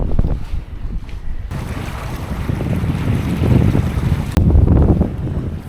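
A sailboat running at six or seven knots through calm water, with a loud continuous rush of water along the hull and buffeting wind on the microphone, with no talk.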